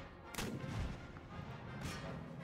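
Two booming cannon volleys from an artillery battery in Empire: Total War's battlefield fighting, heavy low thuds about a second and a half apart, moderately distant and muffled.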